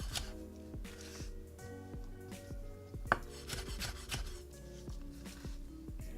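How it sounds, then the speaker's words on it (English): A knife coarsely julienning green bell pepper on a cutting board gives a quick run of crisp chopping taps. Soft rubbing and scraping accompany the cuts, recorded close with no talking. "I'm just gonna coarsely julienne these."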